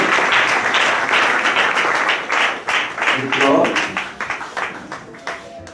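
A congregation at a baptism ceremony in church claps to acclaim the Lord, a dense sustained ovation that thins into scattered claps toward the end, with voices mixed in.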